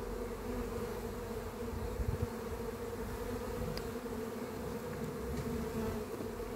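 Honeybees buzz in a steady, dense drone during a spring hive inspection, with a close, continuous hum of many bees filling the whole stretch and no talk.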